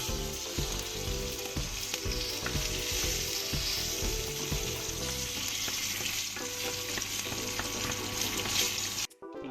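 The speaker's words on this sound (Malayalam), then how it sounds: "കടുക് പൊട്ടിച്ച് നമുക്ക് ഇതിലേക്ക് ഇട്ട് കൊടുക്കാം" Mustard seeds, curry leaves and a dried red chilli splutter and crackle in hot oil, a dense continuous sizzle with sharp popping, alone and close, for nearly the whole stretch before cutting off abruptly at the end.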